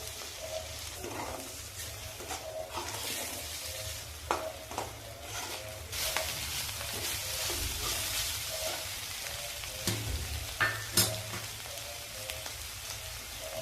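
Beaten egg sizzling in a hot pan for Maharashtrian egg bhurji, a steady frying crackle with occasional scraping stirs and small pops, fairly close and alone without talk.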